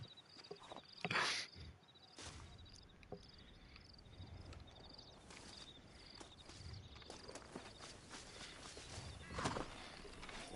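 A horse in the Western video game Red Dead Redemption trots along with soft, rhythmic hoofbeats amid quiet ambient night sounds, faint and somewhat distant, with an occasional louder thump.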